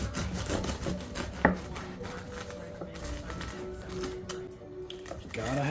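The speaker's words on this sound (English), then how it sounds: "You gotta have a good bread knife, because that'll be pretty tough to cut otherwise" Henckels bread knife sawing through a well-proofed crusty sourdough loaf, close rasping crunches and taps in a rapid, uneven rhythm, quiet, with a voice speaking over it.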